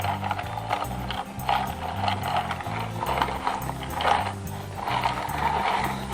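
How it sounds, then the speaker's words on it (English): An ICEE maker toy machine churns with a continuous plastic ratcheting, gear-clicking rhythm, loud and close, running steadily without pause. "Here goes the Icee."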